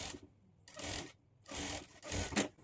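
A sewing machine runs large stitches along a blouse sleeve folded over by one inch, in three short, fairly loud bursts with quiet pauses between them.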